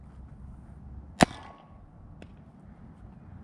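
A FoamBlast foam rocket launches from a blaster at an outdoor range: a single sharp, loud whoosh-snap, followed by a faint distant tap about a second later, with quiet background otherwise.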